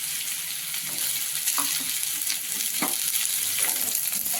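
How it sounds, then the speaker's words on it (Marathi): Pumpkin sautés in a pan with mustard seeds and cumin, giving a loud, constant sizzle with a few soft stirring scrapes and no talking. "चांगला असा परतून घ्यायचं आपल्याला आता हे मऊ होईपर्यंत"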